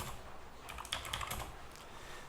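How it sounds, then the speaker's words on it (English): Rapid typing on a computer keyboard while writing code, a quiet close cluster of key clicks and taps bunched in the middle of the stretch. "So in here, I will be typing"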